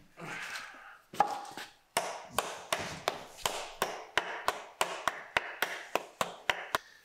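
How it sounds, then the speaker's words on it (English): A hammer taps again and again on a Case IH 9350 Steiger tractor's 24-speed synchro transmission to seat the parts, a dozen or more sharp, evenly spaced metallic knocks that quicken slightly, close and clear with no talk. "you tap with a hammer to seat everything"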